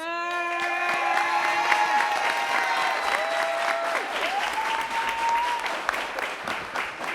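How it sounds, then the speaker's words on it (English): A city council meeting audience applauds a group of young ladies with steady, dense clapping that lasts throughout, mixed with scattered cheers and voices. "give these young ladies another round of applause"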